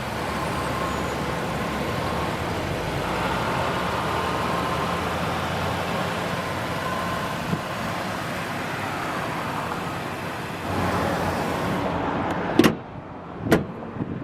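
A 2005 Ford Ranger STX with a five-speed manual idles steadily as a continuous, even engine rumble for most of the stretch. Near the end, a few sharp clicks or knocks break in as the engine settles.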